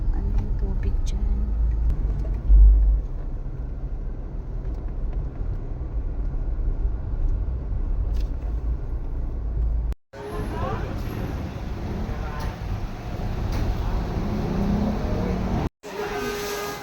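Road traffic rumbles steadily past a pasalubong shop selling bibingka and local delicacies, a continuous loud roar of passing vehicles with a brief break near the end and no clear talk over it.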